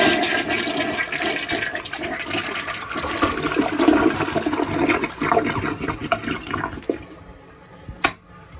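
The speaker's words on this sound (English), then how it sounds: "Here's the brand new elongated Mansfield Summit flushing." A brand new elongated Mansfield Summit toilet flushes nearby, a rushing gurgle of water that churns steadily, then tapers into a quieter refill trickle, ending with a sharp knock.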